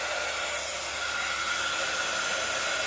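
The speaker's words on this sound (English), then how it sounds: "Now when I get this heat gun going, it will make a bit of noise" A steady, loud blowing hiss from a handheld heat gun runs continuously, with a faint high whine and no voices.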